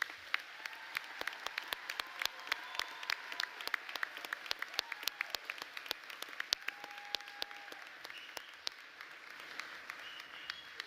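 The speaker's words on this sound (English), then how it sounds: "Everyone, please join me once again in applauding our graduates." An audience at a commencement ceremony applauds the graduates, heard as faint, distant and scattered hand claps spread through a large hall.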